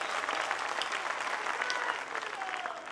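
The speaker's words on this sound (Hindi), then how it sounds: "दोनों हाथ हवा में उठा कर जरा तालियां बजा।" Audience at a live Hindi kavi sammelan poetry gathering during a Ganesh Mahotsav festival clapping together, a dense, steady wash of applause from a nearby crowd that holds throughout and eases slightly near the end.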